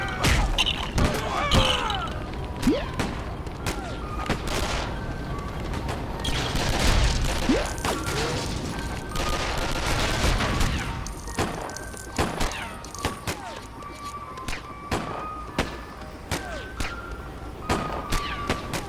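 Enemy gunfire in a Joker video game, with rapid bursts and sharp cracks and thuds layered over a busy, dense game soundscape with music and effects throughout.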